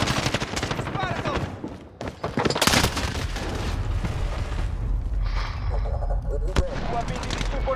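Heavy gunfire in a video game, rapid automatic bursts and booming blasts over a dense battle din, with brief game announcer voices speaking.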